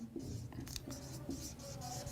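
A pen writes notes by hand in a steady scratching run, close up and unbroken, with a soft room hum behind it.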